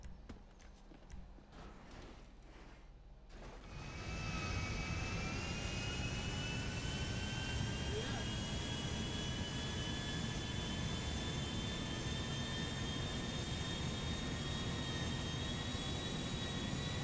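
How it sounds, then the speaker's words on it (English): Jumbo jet engines roar in the video game GTA, a steady loud whine and rumble that swells in after a few seconds of quieter game sound and holds to the end. "I'm about to fly a jumbo jet, my dude."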